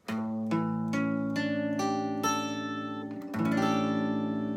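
An acoustic guitar chord is picked one string at a time, about seven notes ringing out in a slow, even sequence that builds into a sustained chord, then a final strum-like cluster rings close and clear with no talking.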